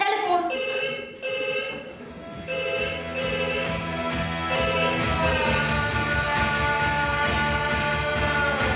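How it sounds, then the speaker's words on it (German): A telephone rings with a sustained, tonal electronic ringing that keeps repeating and swells louder partway through, with no voices over it. "Telefon!"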